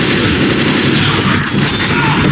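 A loud, dense fusillade of gunfire in the Left 4 Dead zombie shooter, with rapid overlapping shots forming a continuous burst throughout.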